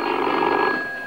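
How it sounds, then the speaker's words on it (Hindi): A 1960s telephone bell rings loudly and close in a brief continuous trill that fades slightly at the end. "देखो बेगम, हर 2 मिनट बाद टेलीफोन आ जाता है"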